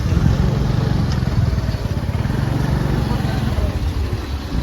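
A two-wheeler motorcycle engine runs up a ramp in a busy street market, its continuous mid-pitched drone holding steady and fairly loud throughout the short stretch.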